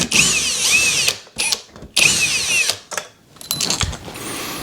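A power screwdriver loosens two screws on a ceiling fan light fixture, sounding as several loud, close whirring bursts with a rising and falling whine, separated by short pauses and clicks.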